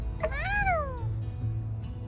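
A cat in the video game My Time at Sandrock gives a single clear, rising-then-falling meow, close and distinct over a low background hum.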